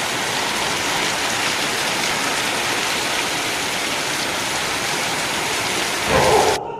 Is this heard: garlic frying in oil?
no